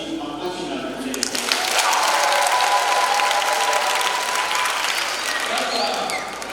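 A Catholic congregation at a first communion service in Kijenge parish, Arusha, breaks into sustained clapping mixed with high trilling ululation, swelling quickly after a brief lead-in and holding strong before easing off.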